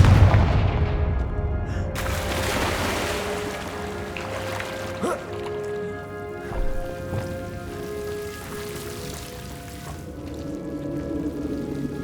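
Repeated fiery Confringo spell blasts from Hogwarts Legacy, sharp booming bursts landing at intervals over a dense, rain-like crackling wash with a low rumble beneath and no talking.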